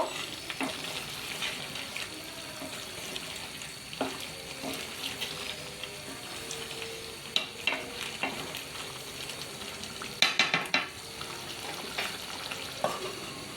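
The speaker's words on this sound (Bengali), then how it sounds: "ডালটাকে মাংসের সাথে খুব সুন্দর করে মিশিয়ে নিব" Lentils being stirred into goat meat frying in a pan, a steady sizzle under scraping and clinking stir strokes, with a few sharper clatters near the middle.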